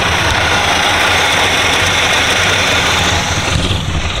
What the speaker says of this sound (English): Idle sound a whole lot better too.